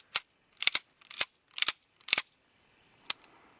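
A Springfield 1911 pistol, unloaded, gets tapped and its magazine removed: a run of five sharp metallic clacks in quick succession, then a pause and one final click, close and alone.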